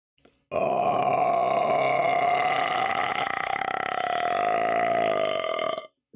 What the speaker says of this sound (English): That was quite the fucking burp.